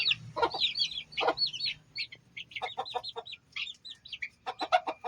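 A hen clucks softly among newly hatched chicks, whose rapid high-pitched peeps come in clustered bursts with short gaps, close by and fairly clear over a quiet background.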